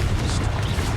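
Confringo fire spell blasts in the game Hogwarts Legacy, a dense, booming low rumble that fills the whole second without a break, loud and close.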